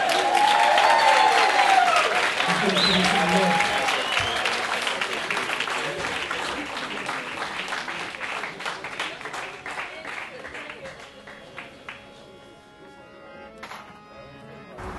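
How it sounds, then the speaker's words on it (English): An audience bursts into applause that is strongest at the start and gradually fades. Speech then carries on over the thinning claps. "Give him a round of applause."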